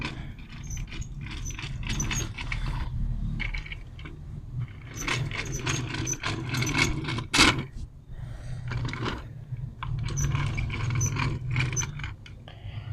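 Small plastic McDonald's mascot toy with a press-activated mechanism: pressing it makes the body move and the legs turn. Light plastic clicks and rattles come close up and repeat in bursts over a low steady background hum.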